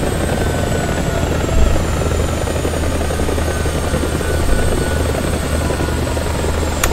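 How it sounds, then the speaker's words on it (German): Mi-24D helicopter in the War Thunder game with its engines running, a loud, steady turbine whine and rotor drone, close and continuous with no pause. "Triebwerke runterfahren."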